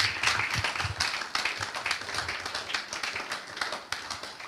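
A church congregation claps steadily and fairly loudly, a dense spread of overlapping handclaps filling the room for several seconds.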